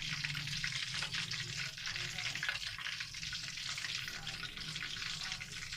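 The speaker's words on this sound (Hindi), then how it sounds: "अब हम इसे फ्राई करने लगे हैं।" Chicken wings frying in hot oil over a high flame, giving a steady, moderately quiet crackling sizzle that continues throughout, with no voices.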